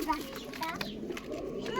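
Giribaz and Pakistani pigeons, male and female, coo softly at close range in a pigeon coop, with someone talking over the burbling calls.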